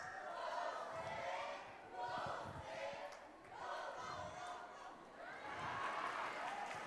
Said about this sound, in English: I like your cheer